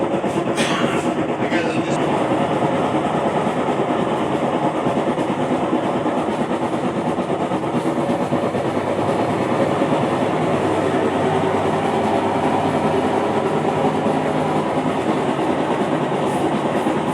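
An old top-loading washing machine, five to seven years in use, with worn, rusted clutch-housing gears runs with a steady, loud mechanical rumble and rattling drone that stays constant throughout, with no voices.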